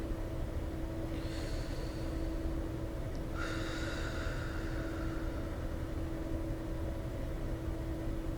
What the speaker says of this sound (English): take those deep cleansing breaths again